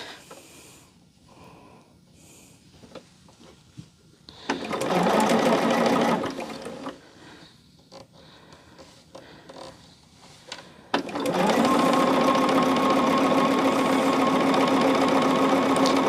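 A sewing machine stitching an outfit runs in two loud, steady bursts, a brief one and then a longer continuous run, with quiet handling noises between them and no talking.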